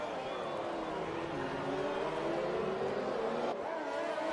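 Race cars in a Formula 2 sprint race at the Canada track in a PS4 game, engines whining in rising and falling pitch as they accelerate, with a tonal sweep near the end and no talking.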